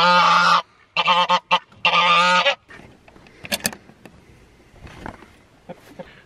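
A goose honks loudly in several harsh bursts, then quieter rustling and scattered faint calls follow.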